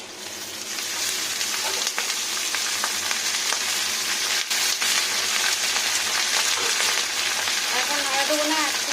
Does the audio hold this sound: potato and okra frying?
yes